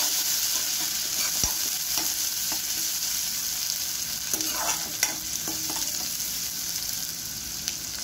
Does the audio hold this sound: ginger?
yes